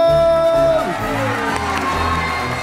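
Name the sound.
audience applauding dancers at Sinterklaas show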